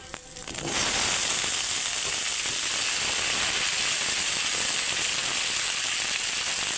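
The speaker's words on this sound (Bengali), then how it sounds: "এখন আমি দু মিনিট আলুগুলো ভেজে নেব" Potatoes frying in a pan of hot oil for a silver carp curry, a steady close sizzle that starts after a brief clatter and then holds evenly, with a bright hiss throughout.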